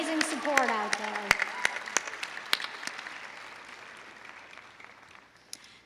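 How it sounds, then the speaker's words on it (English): Graduates at a Rio Salado College commencement ceremony applaud in a hall, the clapping dense at first with scattered sharp claps, then thinning and fading, with a voice briefly heard at the start. "Please, graduates, join me in a round of applause to those that have supported you along the way"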